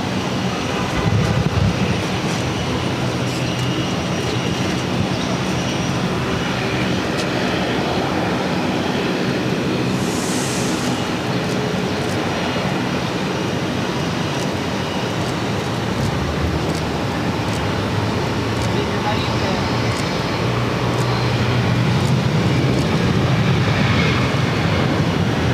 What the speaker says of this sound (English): It is flight 137 coming in from Dublin on the A330-300.